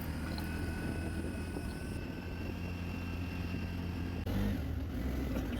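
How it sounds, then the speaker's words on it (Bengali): An auto rickshaw rides along a Kolkata road over an overbridge, its engine giving a steady, close droning rumble with road noise throughout, briefly shifting near the end; no one speaks. "অটোতে উঠে পড়েছি"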